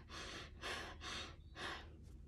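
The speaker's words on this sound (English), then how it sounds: "So shallow breathing looks like this." Quick, shallow breaths demonstrated by a person, four short airy puffs in a steady rhythm, close and fairly quiet with no talking.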